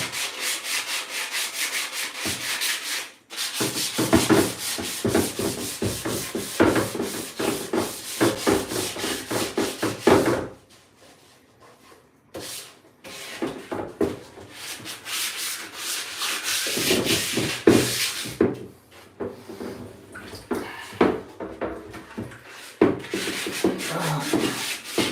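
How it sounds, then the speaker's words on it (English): Sandpaper rubbing by hand over a wooden figure's body and leg, close and loud, in rapid rasping back-and-forth strokes broken by short pauses. "it really helps if you use the right side of the sandpaper to sand"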